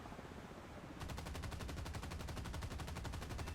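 After a second of steady noise, rapid rhythmic gunfire starts and continues without a break, loud and mechanical, an automatic cannon in the game War Thunder.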